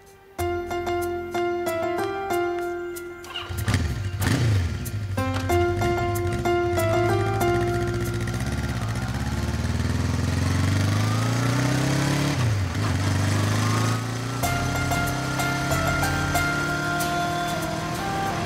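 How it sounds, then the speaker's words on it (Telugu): A motorbike engine drones steadily while riding, its pitch rising and falling with revs, under a layer of background music. "అంజలి, నేను అసలు ఎక్స్పెక్ట్ చేయలేదు తెలుసా, ఈ రోజు నిన్నెలా నా బైక్ పైన"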